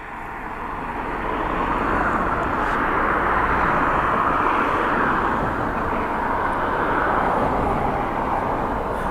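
A Turkish Airlines jet roars past at close range, its engine noise swelling in over the first seconds and then holding a loud, steady, dense rumble throughout.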